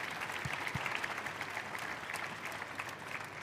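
Audience applause at a bakery awards ceremony for a French baking cup, a steady dense wash of clapping from a sizeable crowd that holds at an even level throughout, with a couple of low thumps early on.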